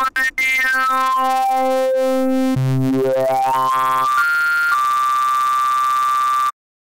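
A loud synthesized FM tone from a Serum oscillator with rich harmonics shifts pitch in sweeps and abrupt steps, growing buzzier and brighter before cutting off suddenly.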